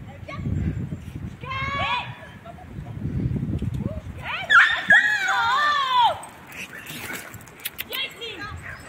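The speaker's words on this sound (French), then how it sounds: "Ah, des chiens loups." Wolfdogs on a forest walk in the Var whine and yelp in high, wavering bursts, with a louder cluster of whimpers midway, while a person talks nearby and footsteps rustle.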